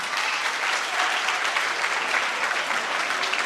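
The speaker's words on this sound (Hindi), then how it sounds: "आप एक बार जोरदार ताली बजाइए" A hall full of people bursts into loud, sustained applause at a Teachers' Day school program, the dense clapping steady and close throughout with no pauses.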